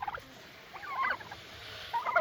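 Big farm birds give short gobbling calls in quick bursts, some close and some faint, over a quiet outdoor background.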